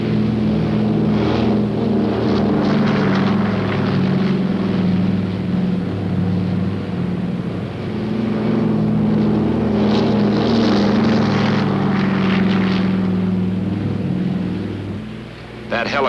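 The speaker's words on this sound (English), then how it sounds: "the planes are launched to support the Marines at the front" Propeller-driven warplanes launch for a combat mission in Korea in 1951, a loud, steady engine drone with some rising and falling that fills the whole stretch, heavy and close.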